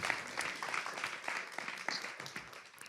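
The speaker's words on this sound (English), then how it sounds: "Let's give him another little round of applause" Audience applause after a talk at a festival symposium session, a moderate wash of scattered clapping that stays fairly steady and slightly distant for about three seconds before easing off.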